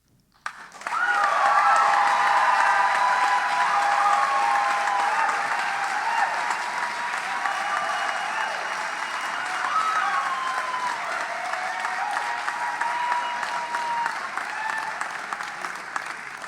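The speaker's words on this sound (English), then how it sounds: "the competing poets are applauding each other" Sustained applause from an audience of competing poets at an on-site poetry contest in the Liberty Theatre, a dense steady clapping that rises sharply and holds loud and even for about fifteen seconds with no talk.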